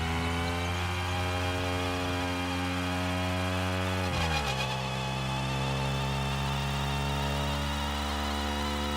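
Vehicle engine purring in an open-world sandbox game, a steady buzzing drone with layered harmonics that drops briefly in pitch midway, then settles into a lower even hum, continuous and up close.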